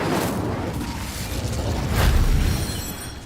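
An Incendio fire spell cast in Hogwarts Legacy gives a rushing, crackling burst that swells to a loud whoosh about two-thirds of the way through over busy background rumble.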